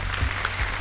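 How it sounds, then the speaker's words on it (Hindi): Studio audience applause on the KBC quiz show set, a steady wash of many hands clapping, continuous and fairly loud throughout the brief moment. "अपने दर्शकों का तालियों के साथ हम चाहते हैं कि उनका स्वागत किया जाए।"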